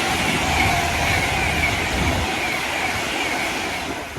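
A train passing along the line near Crewe, a steady loud rumble of wheels and carriages rolling by close at hand, fading slightly toward the end, with no voices.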